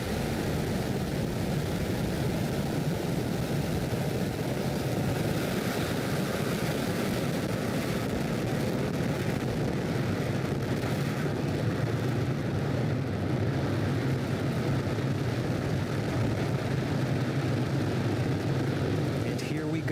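Falcon 9 rocket engines roar at full power during ascent on the Turksat 5A launch, a dense, steady, distant-sounding broadband rumble that never lets up, with a commentator's voice faintly under it.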